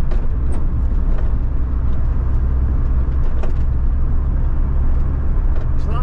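A Vauxhall Nova engine churns with a continuous loud, rough low rumble, close by and steady throughout, without clear rises in revs.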